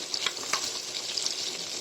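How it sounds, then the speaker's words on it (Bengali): Onion and green chilli frying in a pan, a soft continuous sizzle with light crackles and a few stirring scrapes, fairly quiet and with no voices. "পেঁয়াজ আর কাঁচামরিচ একটু ভেজে নিচ্ছি।"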